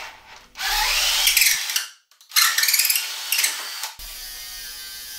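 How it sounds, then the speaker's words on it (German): A power drill bores holes through wooden spacers and brackets while a router table is built for a Record Power TS250-RS saw: two loud whirring bursts with ratcheting grind, separated by a short silent gap, no talk. "Hier zum Beispiel bohre ich Löcher durch die Zulagen und den Winkeln."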